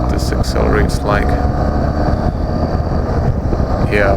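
BMW R1200GS motorcycle accelerating on a test ride, a continuous loud engine drone heavily mixed with wind buffeting, with a rider speaking over it.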